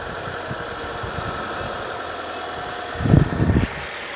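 A Mazda CX-90 PHEV plug-in hybrid SUV engine idles steadily at close range, with a louder rumbling surge near the end, and no one speaks.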